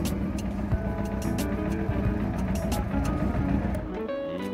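Former police motorcycle engine idling steadily up close, a continuous loud rumble with dense low harmonics that drops slightly near the end.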